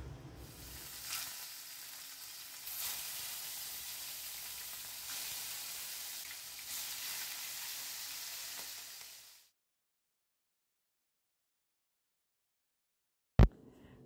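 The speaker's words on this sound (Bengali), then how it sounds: "এই মাছের টুকরোগুলো আমি এই তেলে প্রথমে ভেজে নেব" Pieces of catla fish fry in hot mustard oil with a steady, broad sizzle that swells and eases for about nine seconds before cutting to silence, then a single sharp knock near the end.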